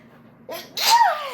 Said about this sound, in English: I'm gonna sneeze, y'all.